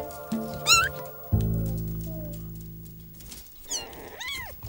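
Young kittens, about six weeks old, giving several high, thin meows, one early and a pair of rising-falling cries near the end, with a loud sustained musical drone filling the middle.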